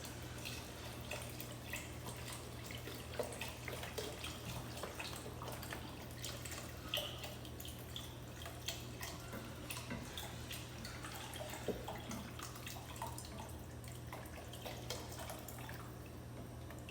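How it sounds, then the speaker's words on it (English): Chicken broth poured from a container into a soup pot for chicken and rice soup: a soft, continuous liquid trickle with scattered drips, faint and close, over a low steady kitchen hum. "I'm going to pour this whole container of chicken broth in there"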